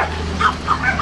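A dog lets out a few short, high yips or barks, spaced a fraction of a second apart over a steady background rumble outdoors.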